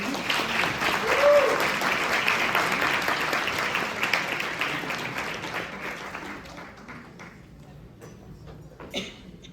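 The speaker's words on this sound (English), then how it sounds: "Round of applause here." A fundraising gala audience applauds as a woman walks up to speak, sustained loud clapping from a large room that gradually thins and fades toward the end, with a few scattered claps lingering.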